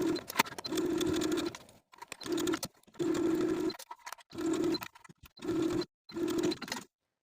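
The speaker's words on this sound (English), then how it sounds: "I'm going to go back to my sewing machine, and I'm going to edge stitch close to this inner fold of the neck binding" A sewing machine edge stitching close to the inner fold of a neck binding runs in six or seven short, steady bursts, each a close, even mechanical whir, separated by brief stops.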